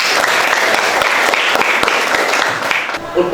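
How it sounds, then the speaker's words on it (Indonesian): Loud, close applause from a classroom group clapping for everyone at a teacher training session, dense and continuous before tapering slightly at the end. "tepuk tangan untuk semua"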